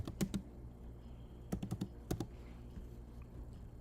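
A computer keyboard is typed on in a few quick bursts of crisp clicks, close and fairly quiet, with short pauses between groups and a low steady hum underneath.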